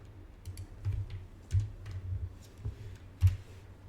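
Soft, sparse keystrokes on a computer keyboard as an email address is entered, close and quiet, with a few single taps and small clusters spaced irregularly.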